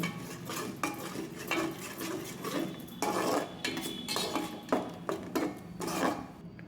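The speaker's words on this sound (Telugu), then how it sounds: "వేసుకొని గంటతో తిప్పుకుంటూ ఫ్రై చేసుకోవాలి" A ladle scrapes and knocks repeatedly against a pan while ginger garlic paste fries for a korameenu fish curry. The uneven metallic stirring strokes sound close, over a faint sizzle, with no voices.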